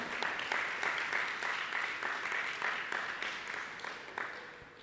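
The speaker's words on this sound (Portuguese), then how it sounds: "Pode aplaudir." A church congregation applauds steadily, the clapping loud and sustained throughout, with a few voices faintly mixed in.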